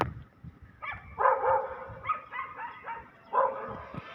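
Several dogs bark and yelp at each other in a scuffle on a street, with bursts of barking and whimpers coming in irregular clusters at moderate distance.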